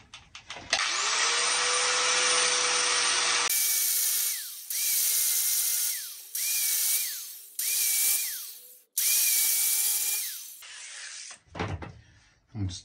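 A power tool whirs loudly, then several sharp bursts of high-pitched, whining impact-wrench hammering on the exhaust of a Colvic Watson 35 boat start and stop in quick succession, ending in clunks and rattles.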